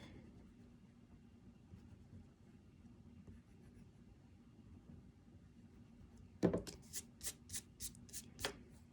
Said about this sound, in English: we can erase some of this other lines that we don't want or need